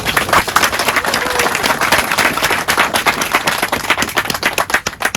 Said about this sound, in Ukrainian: Тому під оплески, будь ласка, це Сергій.